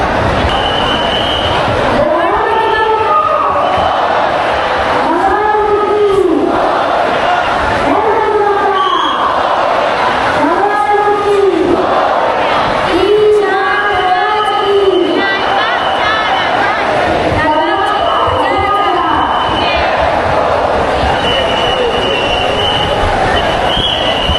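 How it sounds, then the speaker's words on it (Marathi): A huge crowd of devotees at Lalbaugcha Raja, a dense continuous roar of babble and shouting, with rhythmic chanted calls rising and falling over the din and a loud, close, unbroken background. "माझ्या मागे सुद्धा मोठ्या प्रमाणात आणि प्रचंड गर्दी आहे"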